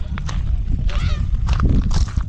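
Honking calls of a goose or duck ring out in short bursts against steady low outdoor rumble, fairly close and moderately loud.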